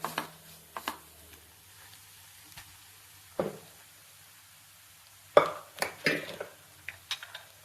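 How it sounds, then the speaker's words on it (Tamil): Cooked rice tipped into a pan of sizzling masala for South Indian lemon rice (chitrannam), heard as a few soft scraping, clattering bursts with a light sizzle, quiet and close, separated by near silence. "இப்போ இதோட ரைஸை கொட்டிடலாம்."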